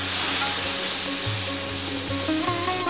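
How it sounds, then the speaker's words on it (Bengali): Water goes into a hot pan of sugared fish roll filling for Kolkata-style rolls, raising a loud, close hissing sizzle with some stirring and faint clanks as it settles into a steady simmer. "এবারে এর মধ্যে জল দেওয়া হচ্ছে"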